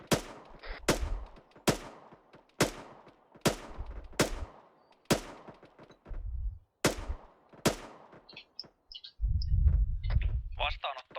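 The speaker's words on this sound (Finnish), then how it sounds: "Tulta laskuvarjoihin vaan." Gunfire aimed at parachutists in a war video game: about ten sharp, loud single shots at roughly one-second intervals, each with a ringing decay, then rumbling noise as someone speaks Finnish.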